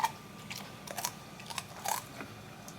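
A pet crunches on raw celery, giving a few crisp, close bites spaced irregularly over a quiet room with no talking.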